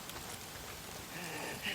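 Steady rain falling in the post-apocalyptic open world of the video game Days Gone, a soft continuous hiss that thickens slightly toward the end, with a faint voice murmuring underneath.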